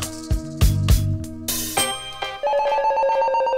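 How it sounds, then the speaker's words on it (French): A telephone rings with bright repeated electronic tones, first in short bursts and then as one sustained ringing tone. No one speaks over it. "la ligne du téléphone bleu se met à sonner"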